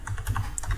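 Several quick keystrokes on a computer keyboard tap out code in an irregular patter of close, light clicks, with no voices.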